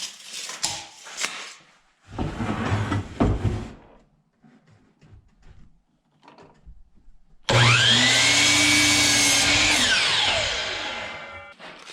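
A power saw cuts 2x4 lumber for building a beehive, with a short loud burst of cutting early on, then a long, loud whine as the blade bites through the wood and winds down.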